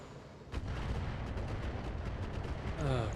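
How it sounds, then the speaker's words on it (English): Automated turret gunfire in a shooter game, a sudden heavy blast followed by a continuous stream of rapid shots over dense background noise. "Turrets are annoying."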